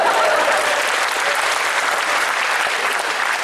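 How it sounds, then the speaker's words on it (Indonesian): Loud, dense audience applause fills the room at a stand-up comedy show in Aceh, a steady wash of many hands clapping continuously without pause. "Tepuk tangan buat saya."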